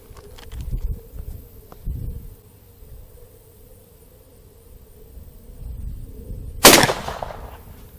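Shotgun blasts from a Midland Arms .410 fired at a target outdoors; two duller thumps come early, then one loud sharp crack near the end, followed by a fading echo.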